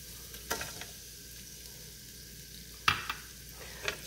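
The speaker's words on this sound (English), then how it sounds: "now I'm going to add the onions" Onions sizzle quietly in a pan for a chicken and vegetable dish in cream of mushroom, with a few sharp clinks and scrapes of stirring spread across the steady fry.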